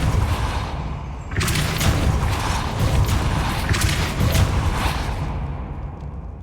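Depulso force spell cast in Hogwarts Legacy on PS5, bursting in loudly after a short lead-in and holding as a dense, roaring whoosh with booming magical layers that ease off near the end.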